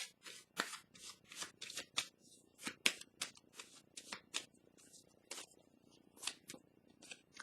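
Tarot cards are shuffled and laid down on a surface: a series of crisp, close, fairly quiet flicks and slaps at an irregular rhythm, with no talking over them.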